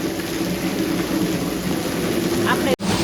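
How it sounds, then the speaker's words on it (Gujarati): Steady, dense rain hisses continuously, a heavy downpour in Jasdan heard up close with a low rumble beneath, briefly cut by a sudden dropout near the end. "વરસાદ પણ બહુ સારો એવો જસદણની અંદર આવી ગયો છે"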